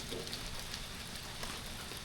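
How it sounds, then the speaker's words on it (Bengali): Steady rain falling in a village, a dense even hiss of drops with no gaps, moderately loud and continuous throughout. "একদিকে বৃষ্টি হচ্ছে"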